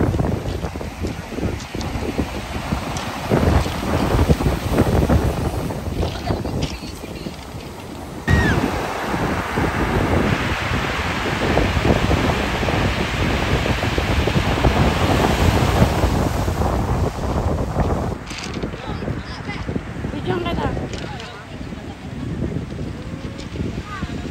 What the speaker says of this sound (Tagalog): Tingnan ko malakas yung alon dito eh